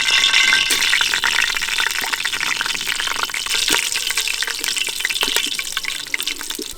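Whole cinnamon, cloves and cardamom fry in hot oil for jackfruit biryani, making a steady, dense sizzle and crackle that runs on its own without a break.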